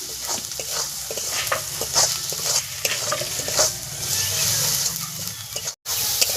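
Spice masala of turmeric, cumin and coriander powder stir-fried in oil for a village-style chicken curry: a continuous close sizzle with repeated scraping stirring strokes and a brief dropout near the end.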